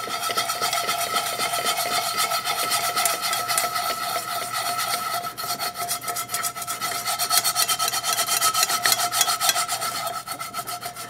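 Coarse chain mail scrubber rubbed steadily back and forth over a cast iron pan, a continuous metallic rasping scrape, close and loud throughout with no talking.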